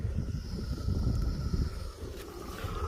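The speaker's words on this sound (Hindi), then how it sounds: "हवा चली रही है" Strong wind gusts outdoors in a Kashmir village, a steady rushing buffet against the microphone with low rumble, close and continuous.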